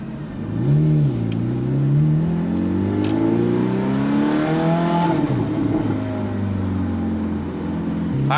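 A 2005 Ferrari F430 Spider engine revving on a test drive with manual shifting, loud and close, its tone sweeping up and down through several rising pulls and drops, with no voices.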